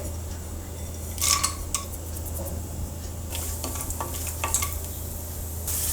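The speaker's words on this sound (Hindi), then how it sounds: "सबसे पहले हम ये काजू और बादाम को भून लेते हैं, हल्का सा रोस्ट करेंगे" Cashews and almonds roast in a kadhai over low heat, heard as a steady sizzle broken by a few sharp metallic scrapes and clinks of stirring, with no voices.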